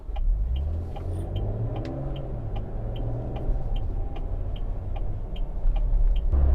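An Ineos Quartermaster pickup truck with solid front and rear axles accelerates, its engine a low steady rumble rising in pitch and heard from inside the cab, with a faint rhythmic ticking throughout and no talk.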